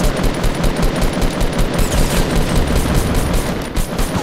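Rapid automatic gunfire in a Fortnite Battle Royale match, dense overlapping bursts of shots filling the whole stretch, loud and continuous with no talk over it.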